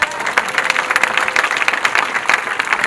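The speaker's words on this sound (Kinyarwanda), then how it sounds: "Dukomere Imana amashyi" A congregation at an ADEPR church prayer service bursts into loud, steady applause that fills the room, with many hands clapping together in a dense, continuous wash.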